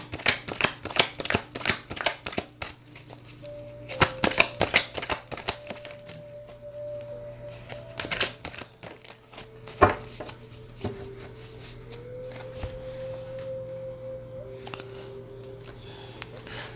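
A deck of tarot cards is shuffled close by in several quick rustling bursts, with short pauses between them, over a faint steady tonal hum.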